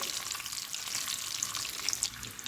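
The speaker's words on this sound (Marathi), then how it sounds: "अंड्याचा कलर मस्त ब्राऊन होईपर्यंत आपण अंडे फ्राय करून घ्यायचे" Eggs frying in oil until browned for a dhaba-style egg curry, giving a continuous bright crackling sizzle with popping spatters, close and fairly steady throughout.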